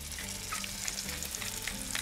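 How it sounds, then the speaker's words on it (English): Prosciutto-wrapped pork roulade searing in a hot pan, a close, steady crackling sizzle with no talk. "we're just going to let that sort of sear on all sides"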